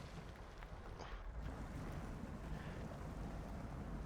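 A Hummer truck pushing through deep water in the off-road game Snow Runner: a low, steady rushing wash of water and engine rumble, continuous and fairly quiet, with no talk.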